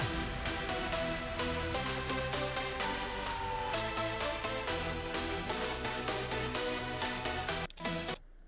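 The bright, dense supersaw synth theme, thick layered saw tones playing over a driving beat, cutting off abruptly near the end.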